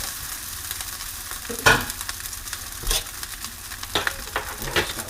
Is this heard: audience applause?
no